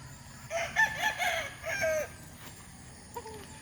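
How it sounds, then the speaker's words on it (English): Brood cock and stag roosters crow loudly up close, two long crows in a row followed by a shorter call, with clucking in between. "So these are brood cocks,"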